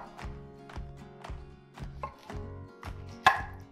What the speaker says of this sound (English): And then I'm gonna give our broccoli a rough chop.